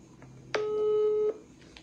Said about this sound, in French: je vais l'appeler sur WhatsApp, et si elle prend